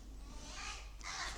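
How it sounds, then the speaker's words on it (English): Crows squabbling in woodland near a river, harsh caws and scratchy calls from a distance, faint over a low steady background rumble, with a louder burst near the end. "the birds are having a fight by the sounds of it."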